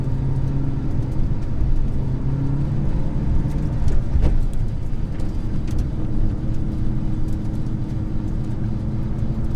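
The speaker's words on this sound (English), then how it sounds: "God, I'm friggin' driving a 2000 Cobra R." A 2000 Ford Mustang Cobra R, one of only 300 made, drives with a steady low engine drone and road rumble from inside the cabin, smooth and even with no talking.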